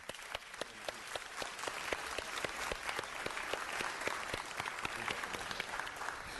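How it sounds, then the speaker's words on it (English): A city council chamber audience at a neighborhood council awards event gives a round of applause, sharp individual claps standing out from a fairly faint, steady wash of clapping that continues throughout. "Can we just give one more round of applause to all the great work for neighborhood councils by everybody"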